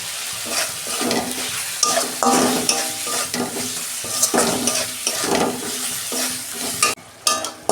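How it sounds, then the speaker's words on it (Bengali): Ground cumin, coriander and Kashmiri chili powder fry in hot oil for a homemade Bengali fish curry, a continuous sizzle broken by repeated scraping and stirring strokes of a spatula in the pan, loud and close. "এই যে মশলাটা আমি কষে নিয়েছি"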